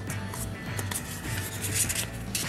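A painted guitar finish is hand-sanded with 2000 grit sandpaper, giving a close, steady, soft scratchy rubbing of continuous back-and-forth strokes with no talking.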